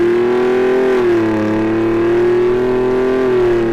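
A 3.5L EcoBoost Ford F-150 with a Borla ATAK cat-back exhaust drones loudly and close, its steady deep engine note dipping slightly and rising again as it revs.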